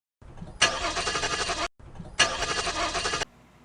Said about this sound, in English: he puts the keys in the ignition and tries to turn the car on